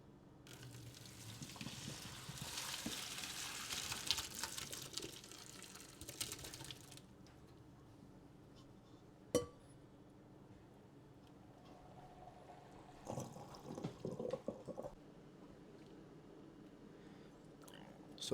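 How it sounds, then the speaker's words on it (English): Boiled potatoes are drained, water pouring from the pot into a sink in a loud rushing burst for several seconds, then quieter kitchen clatter with a sharp knock and a second brief splash, while someone talks softly. "we're going to dump the water"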